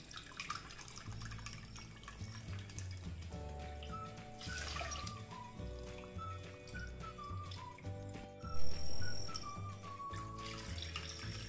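Water poured into a pan for raw mango halwa, a faint trickling and splashing beneath steady background music, with a brief louder splash partway through.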